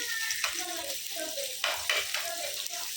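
Onions fry in a pan until brown for a home chicken curry, giving a steady bright sizzle with soft stirring scrapes and faint background voices.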